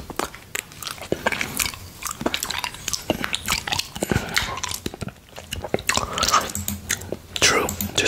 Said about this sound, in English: So yeah, let's eat honey.